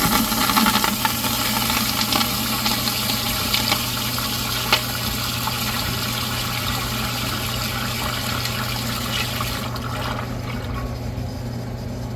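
A first-generation Kohler Wellworth Pressure Lite pressure-assisted toilet flushes with a loud, sustained rushing roar and rattling hum that runs unbroken for about ten seconds, then cuts off abruptly into a quieter tail.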